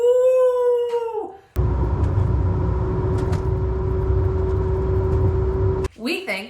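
A voice first imitates a rising, ghostly wail, then a Mazdaspeed Miata at about 40 mph emits a steady high-pitched differential whine over road and engine noise before talking resumes.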